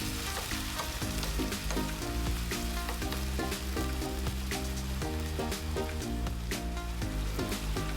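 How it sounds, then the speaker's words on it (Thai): Vegetables stir-frying in a pan with a little added water, a dense continuous sizzle and crackle with occasional stirring scrapes, heard under steady background music without speech. "เติมน้ำเล็กน้อยแล้วก็ผัดต่อ จนผักของเราเริ่ม นิ่มดีนะคะ"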